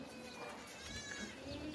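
Goat bleating at a livestock market, a long-eared, well-built male goat offered for sacrifice, with faint bleats rising over steady crowd murmur and background chatter throughout.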